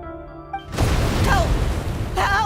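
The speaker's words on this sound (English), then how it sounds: "That sounded like an explosion." A sudden deep boom of a video game explosion cuts in after quiet tonal music and rumbles on, with a brief rising tone sounding over it near the end.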